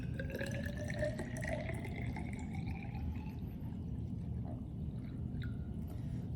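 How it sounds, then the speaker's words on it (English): Liquid is poured carefully into a laboratory graduated cylinder, a steady trickling stream with a faintly rising tone as the cylinder fills, heard alone without speech. "so I'm going to pour off 200 milliliters carefully in the graduated cylinder"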